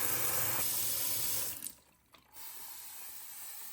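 Cool tap water runs steadily into a sink with a splashing hiss while rinsing fruit, briefly interrupted as the flow is blocked, then resumes.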